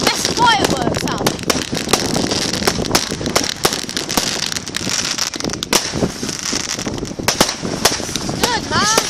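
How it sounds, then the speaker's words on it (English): A fireworks display bursts in a rapid, irregular series of sharp bangs and crackles, some near and loud, others farther off, with crowd voices and wind noise between the blasts. "Best fireworks out."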